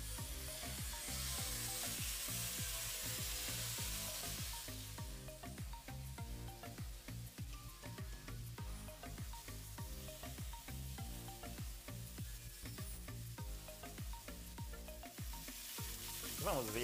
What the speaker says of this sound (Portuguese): Em uma frigideira pré-aquecida, vamos colocar um fio de azeite e vamos colocar o nosso bife para grelhar